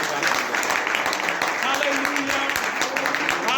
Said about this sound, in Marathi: जोरात टाळ्या वाजून प्रभू येशूला धन्यवाद